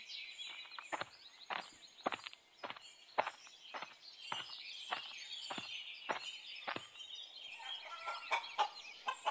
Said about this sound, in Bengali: তোমার খামারে তো দেখছি অনেক মুরগি